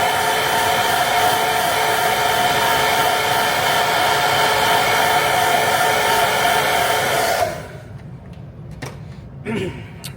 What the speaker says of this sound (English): We'll hit that with a hair dryer.